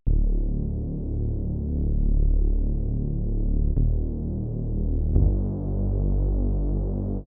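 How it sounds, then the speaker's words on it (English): A detuned Reese bass synth with stacked unison voices and a slightly detuned second oscillator drones as one thick, throbbing low tone, steady and loud for about seven seconds with no talking. "Now the unison is going to sound a lot more thicker than just using 8 voices of unison."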